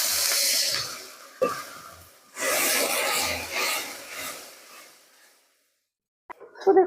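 Mutton masala is stirred in a pan with rough scraping, rasping strokes that fade out, followed by brief silence and a short voice at the end.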